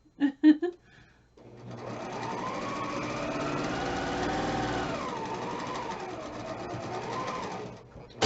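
A sewing machine stitches quilt pieces in one long, steady, close whirring run that rises and dips slightly in speed. Brief mechanical clicks come before it starts, and another click marks the end.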